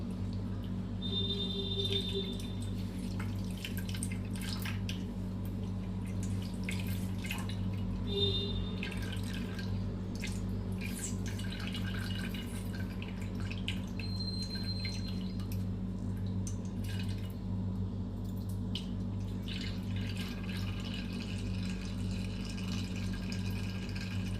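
Sparse, faint drips of water fall from strained curd at irregular intervals over a steady low hum, close by and quiet.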